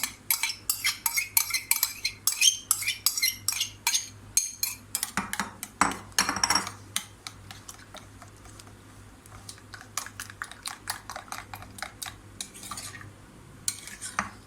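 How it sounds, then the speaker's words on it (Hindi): A spoon scrapes and clinks rapidly in a bowl while a paste is mixed for chicken BBQ rice, with dense repeated strokes close by, a brief pause in the middle and then more stirring. "ये मैं इधर मिक्स कर देती हूँ।"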